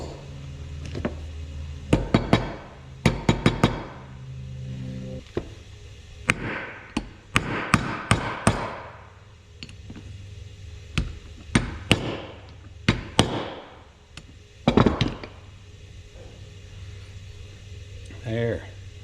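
Metal-on-metal hammer blows drive spherical bushings into a steering cylinder from an 1855 tractor using a Craftsman driver tool, coming in sharp, loud clusters of rapid strikes separated by pauses.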